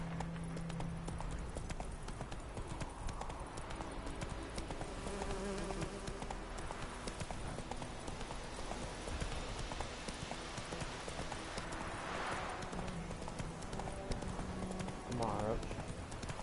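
Roach the horse galloping in The Witcher 3, quick rhythmic hoofbeats under a buzzing insect ambience, with game sound layered over the steady clip-clop.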